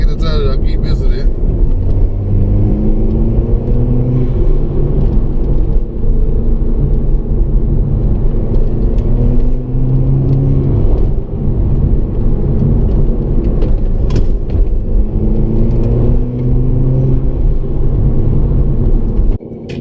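A stage 2 tuned Audi TT mk2 engine heard from inside while driving, a loud, continuous low rumble and intake roar with repeated rising surges as it accelerates and shifts.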